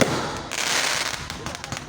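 Fireworks and firecrackers bursting at a village fireworks festival in Kutuk, Undaan, Kudus, heard as a dense, loud, continuous crackle of rapid explosions, with voices faintly in the crowd.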